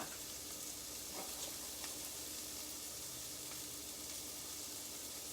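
Onions and peppers frying in a pan over reduced heat, a steady, even sizzle throughout with faint stirring scrapes.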